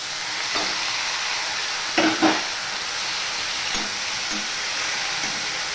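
Boiled pumpkin leaves and stems go into hot tempering oil and are stirred, giving a steady close sizzle and hiss with a few scraping, clattering strokes of the spoon against the pan and no talking.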